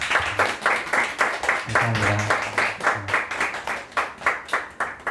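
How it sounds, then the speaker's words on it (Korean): An audience at a poetry reading claps in a steady, rhythmic beat for about five seconds, with a voice briefly speaking thanks over the clapping. "큰 박수 한번 주시겠어요?"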